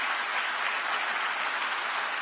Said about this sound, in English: I know the dean was clapping extra loud